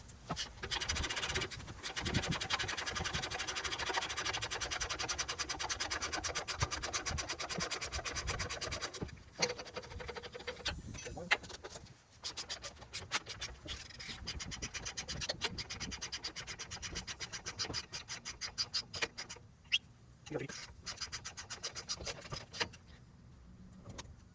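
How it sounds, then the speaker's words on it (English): Ratcheting wrench working a 15 mm bolt on a Ford Expedition rear strut, a close, steady rasping click-whir that runs for long stretches with brief pauses and scattered metallic knocks. "It's a 15 millimeter. Gonna hit it with the ratcheting wrench."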